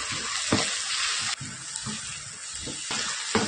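Tomato paste with ginger and garlic sautéing in a pan for chicken gravy gives a dense, continuous hiss of frying, with occasional low stirring thumps and scrapes close by and no speech.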